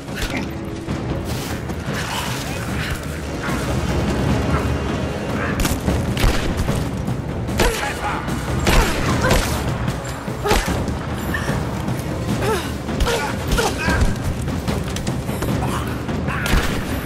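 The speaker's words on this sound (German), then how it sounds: "Ich werde beschossen." Gunfire and booming impacts in the video game Rise of the Tomb Raider, a dense running barrage of thuds and shots that grows heavier partway through, with someone talking over it.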